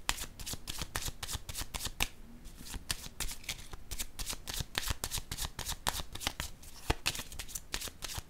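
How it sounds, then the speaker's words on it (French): Tarot cards being shuffled and laid down, a steady stream of crisp riffling and slapping card sounds, close and continuous with no talking. "Attendez, je vais déposer une carte ici juste avant."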